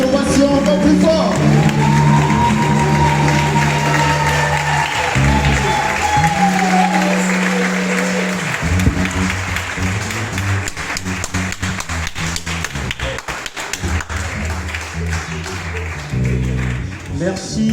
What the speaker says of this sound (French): Une pluie d'acclamation